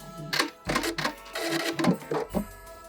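Back stitching on an upcycled fabric gift bag: a sewing machine gives short, irregular mechanical bursts of clattering stitches, close and fairly loud.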